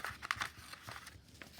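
Sheet of paper handled and crinkled close by, with a few short rustling bursts and light crackles over a quiet room.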